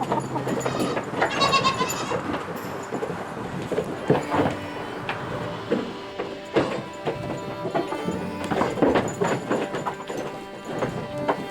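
Several goats bleat in a barn, repeated wavering calls from different animals at varying distances, some close and loud, with hoof shuffling and clattering between them.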